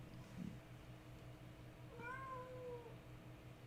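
A domestic cat lets out one drawn-out, wavering meow partway through, fairly close and clear over a quiet room with a low background hum.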